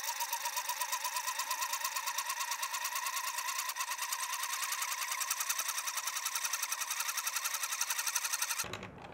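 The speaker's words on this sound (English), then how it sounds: "plug in the generator and start cranking" Hand-cranked generator charging supercapacitors for a model plane's radio gear and motor, giving a steady whirring, buzzing drone with a fast, even pulsing rhythm, close and continuous, stopping abruptly at the end.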